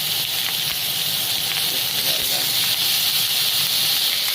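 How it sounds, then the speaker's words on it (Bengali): Pieces of katla fish sizzle with a steady, bright hiss as they go into hot oil in a home kitchen. "আর এর ফাঁকে তেলে আমি মাছটা দিয়ে দেবো। তেলটা গরম হয়ে গেছে,"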